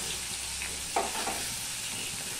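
Chopped tomato hitting hot spiced oil in a pan while cooking a vegetarian Bengali brinjal dish, giving a steady broadband sizzle with a brief louder hiss as it lands, then continuing to fry quietly.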